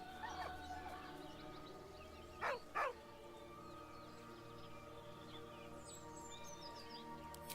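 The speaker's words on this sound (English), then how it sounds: "With a deep, heartbroken whine, the dog bows his head." In Baldur's Gate 3, a dog gives two short yips over a steady hum of game ambience and music, with faint whimpering tones close by.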